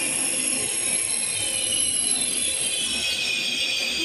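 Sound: Pendolino ED250 train arriving at Gdynia Główna station

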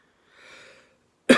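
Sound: cough

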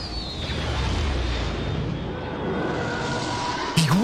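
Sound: explosion while shooting in Lego Star Wars Skywalker Saga video game

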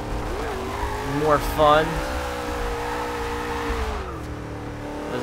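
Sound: Dodge Charger car driving in video game Forza Horizon 2

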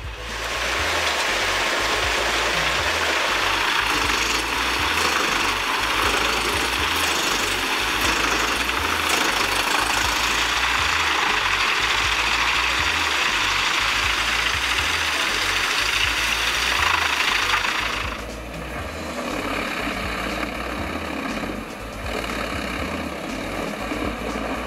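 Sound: tractor-powered wood chipper clearing forest

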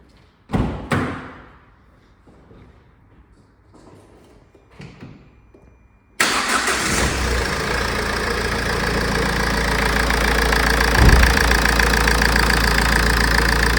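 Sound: van engine starting and idling

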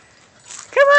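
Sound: dog whimpering

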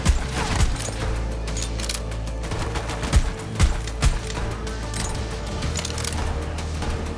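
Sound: gunfire from Borderlands 3 video game

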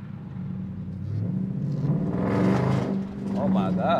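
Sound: Dodge Durango RT with 345 Hemi engine driving

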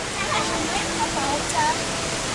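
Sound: Silver Waterfall in Sapa, Vietnam

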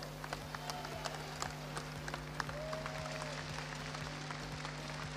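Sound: audience applause at football promotion celebration

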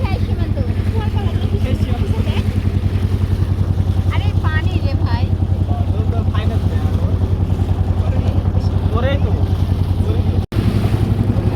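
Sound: boat ride past floating villages

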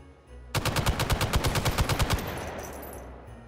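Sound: gunfire in the video game Hot Dogs, Horseshoes & Hand Grenades

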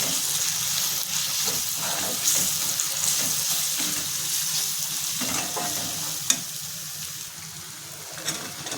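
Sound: sautéing chili paste, coriander-cumin powder and goda masala

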